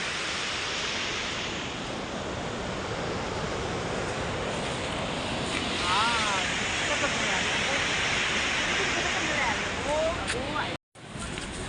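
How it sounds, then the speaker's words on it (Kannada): Saraswati river rushing past Mana village, a steady broadband roar of flowing water filling the whole stretch, close and constant, with a brief dropout near the end. "ನೋಡಿ, ಸರಸ್ವತಿ ನದಿ"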